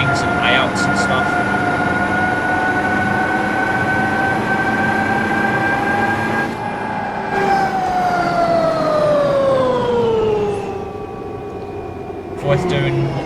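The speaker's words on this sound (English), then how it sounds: "Voith doing what Voith does best and making a very loud retarder sound" A Voith retarder on a MAN EN92 bus in the OMSI 2 simulator gives a loud, sustained whine with a falling pitch, close and continuous, ending in a brief thump.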